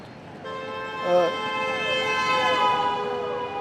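An ambulance siren wails continuously at moderate distance, its rising and falling tones carrying over faint traffic noise.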